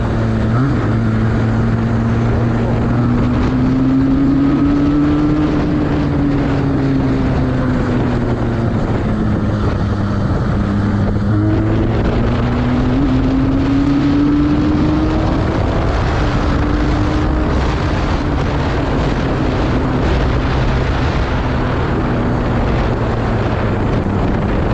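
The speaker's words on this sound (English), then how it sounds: "We'll get an empty stretch to check the performance of this bike." Benelli 302R motorcycle ridden at speed along an empty stretch, its engine droning steadily with rising and falling pitch beneath constant heavy wind rush throughout.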